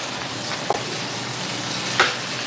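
An egg fries in a pan for a burger, giving a soft, continuous sizzle with a couple of brief sharper pops, close by and with no talking.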